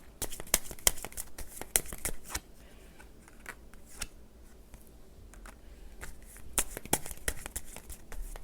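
Tarot cards are shuffled close by in quiet bursts, rapid crisp riffles and snaps clustered at the start and end with a softer lull between.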